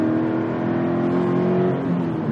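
Toyota 86 GTS with a Subaru-based boxer engine revving steadily up close, a continuous droning engine note with strong low harmonics that shifts slightly in pitch, with no voices.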